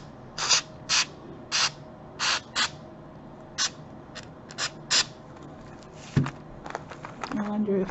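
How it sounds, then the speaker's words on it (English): Short hissing bursts of an aerosol fake snow spray repeat in a loose rhythm, about a dozen quick puffs, followed by faint rubbing and handling noises. "now I can take my spray snow"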